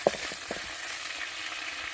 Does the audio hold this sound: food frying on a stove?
yes